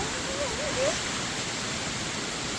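Water rushing in a stream beside a small waterfall, a dense, steady wash of noise without letup, close and fairly loud.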